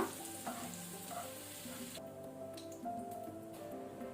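Capsicum fries in a pan with a faint, steady crackling sizzle that thins partway through, accompanied by a soft tonal background hum.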